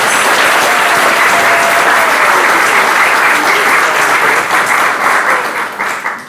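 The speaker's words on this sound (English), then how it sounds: "So let's give them another round of applause." A luncheon audience gives a loud, sustained round of applause, dense clapping filling the room steadily before tapering off at the end.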